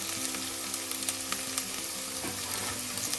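Crushed ginger, garlic and green chillies sautéing in hot oil in a pan for a Kerala-style Aavoli (pomfret) fish curry, giving a steady, close sizzle with faint stirring scrapes and no talk.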